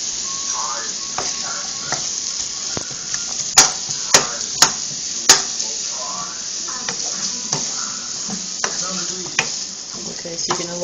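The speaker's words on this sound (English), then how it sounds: "I think you can already hear it sizzling." Chicken, onions and peppers for fajitas sizzle steadily in a hot pan on high heat, a close, continuous hiss with a few sharp clicks and pops scattered through it and no talking.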